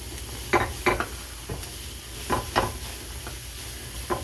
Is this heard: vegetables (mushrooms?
yes